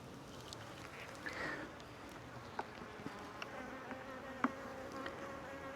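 Honey bees drone in a low, steady hum around an open hive, with soft clicks and taps of frames being handled above the faint buzz.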